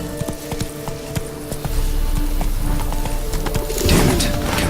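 Horse hooves from Geralt's mount Roach in The Witcher 3: Blood and Wine, a steady clip-clop of hoofbeats at close range over game ambience and music, growing louder toward the end.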